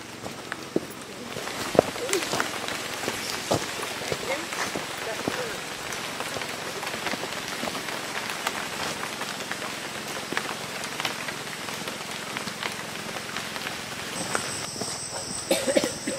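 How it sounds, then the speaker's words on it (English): Heavy rain pours through the Amazon rainforest in Peru's Pacaya-Samiria reserve, a dense steady hiss of drops on leaves with scattered sharper splats and faint insect chirps underneath, continuous throughout. "What we call crazy rain."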